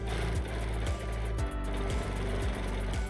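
Sewing machine stitching quilting channels with lollipop templates, a loud continuous motor whir carrying a regular mechanical rhythm of repeated thumps about twice a second, with no voices.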